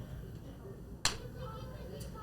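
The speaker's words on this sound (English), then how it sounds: "If you wouldn't mind hitting that green board, clap" A single sharp clap of a green clapperboard snaps shut once, close and crisp, against a quiet room at a birthday gathering.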